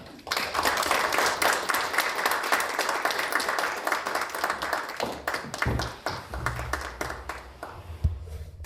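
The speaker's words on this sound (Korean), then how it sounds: "큰 박수로 모시겠습니다" An audience at a special lecture applauds to welcome the speaker, a full round of clapping that stays strong for several seconds, then thins into scattered claps with some low knocks and shuffling near the end.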